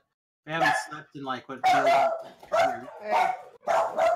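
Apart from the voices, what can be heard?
dog barking in the background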